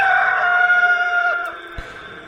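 A rooster crows once as a sound effect, a loud, close, drawn-out cock-a-doodle-doo that fades at the end, followed by a short thump.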